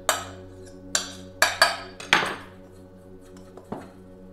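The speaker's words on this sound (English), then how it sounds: "now we're gonna start mixing it with the knife" A knife works flour tortilla dough in a bowl, striking in a few sharp, separate clinks and taps with short ringing decays over a faint hum.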